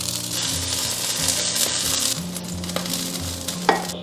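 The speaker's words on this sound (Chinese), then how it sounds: "两面都是这种金黄色就可以了" A golden-browned beef patty sizzles steadily in a pan, a bright continuous hiss with a few small clicks and a sharp tap near the end.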